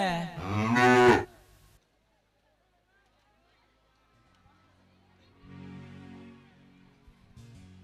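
A buffalo at a rural stage comedy show, one long loud moo with rich harmonics close by, followed by silence and then faint background murmur.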